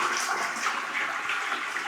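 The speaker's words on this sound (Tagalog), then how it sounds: "Malakas din yung flush" A toilet flushes in a tiled campsite bathroom, a steady, strong rush of water that fills the short stretch evenly at moderate level with no one speaking.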